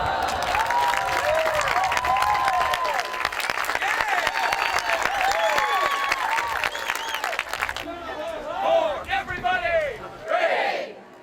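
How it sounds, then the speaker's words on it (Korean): Crowd at a street performance in a Miami square cheering and applauding, dense clapping and whoops filling the space, thinning into scattered cheers and shouts toward the end. "사람들은 작은 묘기 하나, 농담 한마디에도 환호하고 즐거워한다."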